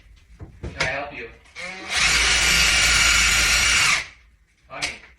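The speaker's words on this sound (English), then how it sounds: "Let's see how he reacts to the drill sound." Power drill driving screws for cabinet knobs indoors, a loud whirring burst of about two seconds between shorter revs, close by, with people talking before and after it.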